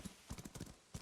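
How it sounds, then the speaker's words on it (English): Horse hooves clip-clopping in the video game Where Winds Meet, a quick, faint run of several soft hoof beats in an uneven trotting rhythm, with a short pause before a final pair of steps. "Okay, we have a horse now."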